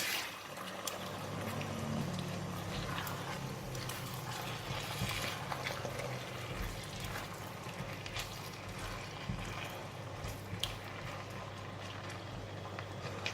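Beef and vegetables with black peppercorns stir-frying in a wok, a steady loud sizzle and crackle lasting throughout with occasional sharper pops.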